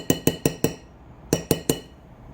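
Metal spoon clinking sharply against dishes while prepping Pillsbury Funfetti cupcakes with s'mores frosting: four quick ringing taps, a pause, then three more, close and bright.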